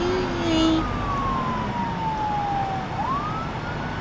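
A video game police siren wails with a slow falling and rising tone, steady and prominent over a rumbling engine drone during a car chase.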